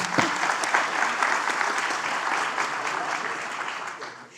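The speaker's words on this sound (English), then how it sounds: "Let's give Kim a round of applause." Audience applause at a decluttering talk about Goodwill, a dense, fairly close burst of many hands clapping that holds steady and then begins to fade near the end.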